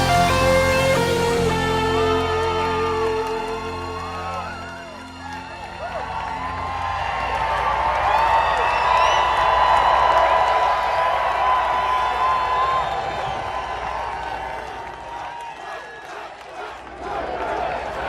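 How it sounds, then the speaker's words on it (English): A large crowd at an outdoor political rally cheers, whoops and applauds, loud and sustained over fading music, swelling to a peak before tapering off. "What a crowd."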